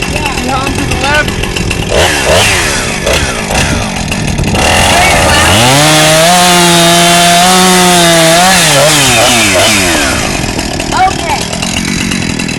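Chainsaw revving hard and cutting through wood during a disaster-recovery lesson, a loud, sustained engine whine rising and falling in pitch as the blade bites, with people talking over it before and after.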